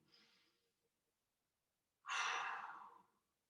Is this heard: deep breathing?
yes